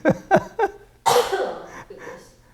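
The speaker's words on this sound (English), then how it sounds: "You've been holding that cough for a while," Three quick, sharp coughs in a row, then a longer, harsher cough with a rasping tail, close and fairly loud.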